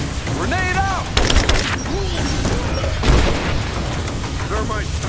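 Grenade blast and gunfire in Rise of the Tomb Raider during a combat mission, loud booms and bursts of shots layered under shouted voices and radio chatter.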